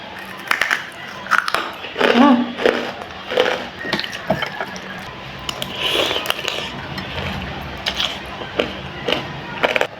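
Someone eating spicy noodles mixed with extra spicy basreng, fried meatball crisps, close up, with irregular crunchy bites and chewing, slurps and soft clinks of utensils against a bowl.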